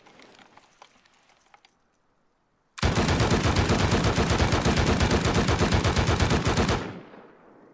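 An M249 machine gun fitted with a scope fires in the console version of the game Rust: one loud, sustained automatic burst of about four seconds of rapid, evenly spaced shots that breaks a near-silent pause.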